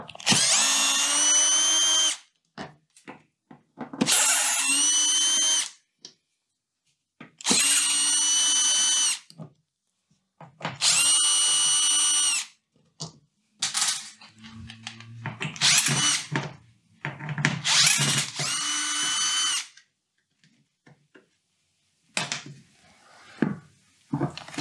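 A cordless driver whirs in repeated bursts of about two seconds each, backing out Torx T20 screws from the casing of a Siemens washing machine, with clicks and handling noise between runs.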